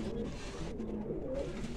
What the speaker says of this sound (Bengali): এই যে বন্ধুরা দেখুন সব মাদি পায়রা আছে এখানে,